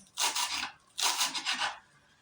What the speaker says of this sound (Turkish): Daha sonra maydanozu ince ince kıyıyorum.